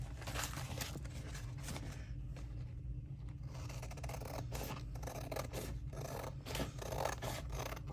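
Scissors trim paper for a scrappy journal, a steady run of close, crisp snipping and rasping cuts that carries on without pause and with no voices.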